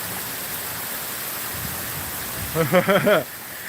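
Heavy rain pouring into flood water, a dense steady roar of falling water and runoff, loud and continuous throughout, with a brief burst of speech near the end.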